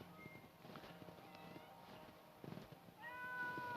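A cat meows several times, with a few rising, drawn-out cries toward the end over light background rustling.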